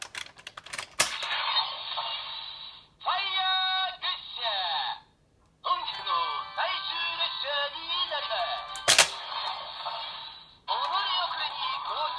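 Electronic toy sound effects from a ToQger Daikaiten cannon with the Fire Ressha loaded, bursts of bright buzzy synthesized tones and chattering patterns broken by short gaps and sharp clicks, close and fairly loud.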